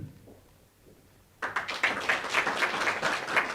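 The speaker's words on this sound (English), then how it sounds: "let's give him a clap" An audience at a Sacco launch and office opening bursts into applause after a quiet pause, with moderately loud, dense clapping that continues steadily to the end.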